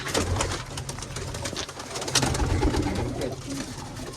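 Racing pigeons coo repeatedly at close range during a pigeon race, soft low throaty calls layered over constant background noise.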